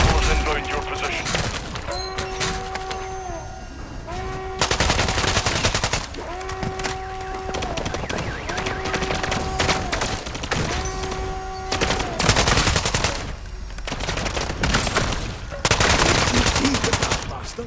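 Rapid bursts of automatic gunfire from Call of Duty Modern Warfare III Zombies roar in dense, repeated volleys over steady game music and tones, with game voices speaking in between.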